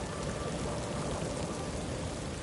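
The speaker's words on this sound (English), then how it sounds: "randomly it started raining lava" Lava rain falls in the sci-fi shooter Marathon, a dense, constant hiss of countless drops pattering on surfaces, steady and fairly quiet, with no voices.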